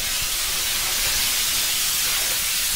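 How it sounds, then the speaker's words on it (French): A Vapodil steam cleaner releases steam in a loud, continuous, close hiss that holds steady throughout, with no voices. "envoyer votre vapeur pour éliminer les dernières petites poussières"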